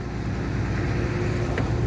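A Sundarbans tour boat's engine drones steadily, a close, loud low-pitched hum with throbbing pulses and no voices over it.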